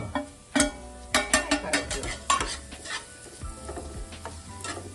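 Spices and besan fry in oil for moong dal kachori, a steady sizzle broken by repeated scraping stirs of a spoon against the pan, close and moderately loud with no talking.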